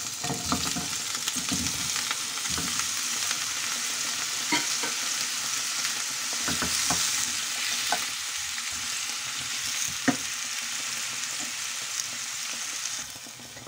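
Ingredients fry in a hot pan with a quiet, steady sizzle, broken now and then by light clicks and scrapes of a utensil, with no talking.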